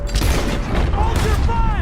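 Rapid volleys of gunfire from a Red Dead Redemption 2 shootout crack and boom continuously, with shouting voices layered over the barrage throughout.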